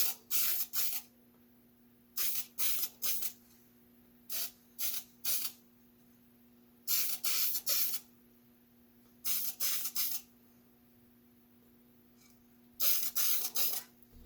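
Several short bursts of aerosol spray hiss, in clusters of two to four, separated by quiet pauses over a faint steady hum.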